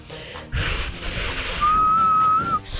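Breathy air rushing, then a thin, shaky whistle tone emerges and wavers for about a second before fading out, close up.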